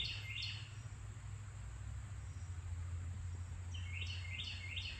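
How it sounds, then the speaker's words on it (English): A bird calling outdoors, repeated high chirping bursts at the start and again near the end, fairly faint over a low steady background rumble. "Did you hear that bird?"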